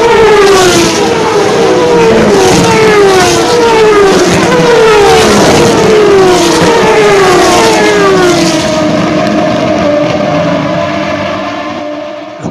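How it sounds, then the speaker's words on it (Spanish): A TC Pista race car accelerates near a celebration area, its engine revving loud and close in repeated rising sweeps as it climbs through the gears, holding a sustained roar before fading slightly at the end. "el más chico de los Canapinos, acelerando el auto cuando llegaba al sector de los festejos"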